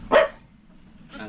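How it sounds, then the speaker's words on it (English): Two bursts of dog barking, thin and slightly distant-sounding as if through a small speaker, separated by a brief quiet gap. "I just looked up dogs barking on YouTube,"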